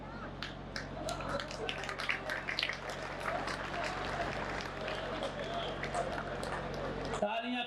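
Audience applause at a Hindi comic poetry gathering, a modest but steady patter of clapping from a crowd over a constant low hum, cut off abruptly near the end.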